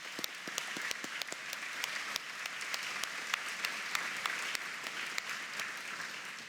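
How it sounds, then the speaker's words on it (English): Sustained audience applause at a morning social fundraising event honoring everyday heroes, dense steady clapping from a large crowd with a few sharp nearer claps standing out, continuing throughout without speech. "we all owe them a huge round of applause"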